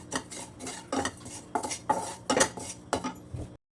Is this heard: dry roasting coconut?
yes